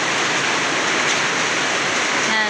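Rainwater pours steadily through a hole in a rotted tarp, a loud, continuous broadband rush of falling water with no pauses and no voices.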